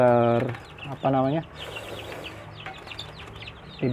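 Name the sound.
kampung chicken chicks clucking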